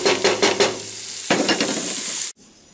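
Onions and celery sizzle and fry in a pan, with several bursts of stirring scrapes, a steady hiss underneath, then the sound cuts off abruptly near the end.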